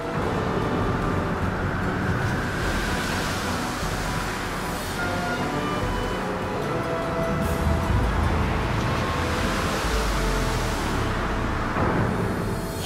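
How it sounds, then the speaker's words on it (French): Stormy Atlantic seas off Newfoundland, with waves reaching 15 metres and winds above 100 km/h, make a continuous loud roar that swells and surges, with no voices. "Les vagues atteignent les 15 mètres et les vents dépassent les 100 km par heure."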